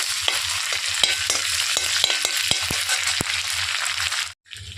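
Crushed ginger-garlic paste and curry leaves frying in hot oil, a dense close sizzle punctuated by a rapid series of sharp spatula scrapes and taps, ending in a brief cutoff.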